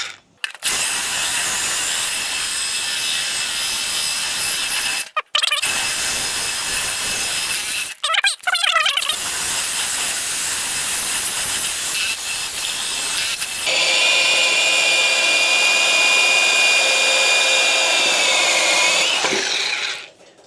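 A loud rotary hammer drill with a 2.5-inch hole saw grinds continuously through concrete, briefly stopping twice, then shifting to a higher, whining pitch before cutting off.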